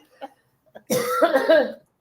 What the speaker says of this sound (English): You're going to get me coughing now